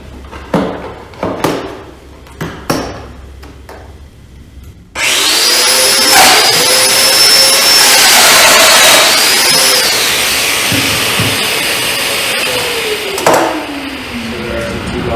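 Several sharp knocks give way to a Festool Domino joiner whirring up as it plunges twice into a wooden drawer end, a loud buzzing cut with dust extraction hissing throughout.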